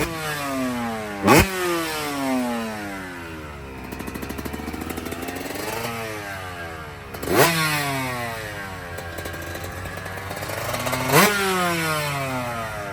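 A two-stroke dirt bike engine revs hard, climbing and falling in pitch three times with sharp blips between sweeps, loud and close with no talk.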